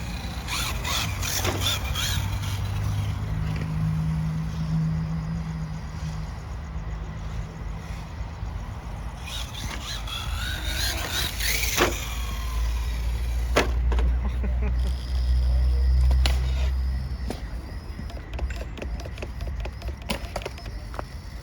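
An HPI Jumpshot SC radio-controlled car with stripped steering gearing gives off a continuous mechanical whirring and grinding, with scattered clicks and rattles, close by and steady throughout.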